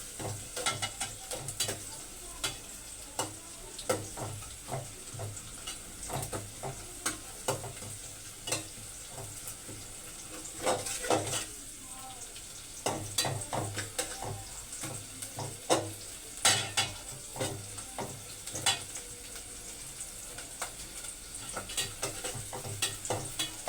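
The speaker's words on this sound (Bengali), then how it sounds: "মরিচ দিলাম, মরিচের পেঁয়াজ সুন্দর ভাজতে হবে।" Chillies and onions frying in oil in a pan, an ongoing sizzle broken by frequent scraping and clacking stirs from a spatula over a long stretch.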